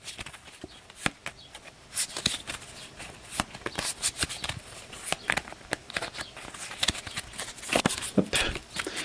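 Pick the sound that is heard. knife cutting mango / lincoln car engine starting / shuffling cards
shuffling cards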